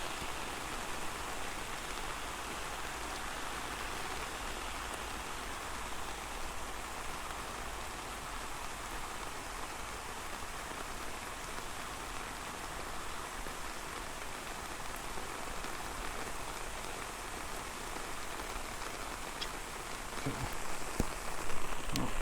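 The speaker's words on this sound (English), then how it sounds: "Bigger puddles this kind of rain." Steady rain pours down in a continuous, even hiss, with no voices, growing slightly louder near the end.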